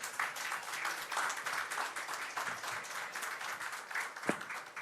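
Audience applause during a special plenary session of the Osasco city council, a steady close crowd of clapping hands with slight swells and a sharp knock near the end.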